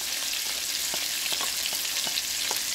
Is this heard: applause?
no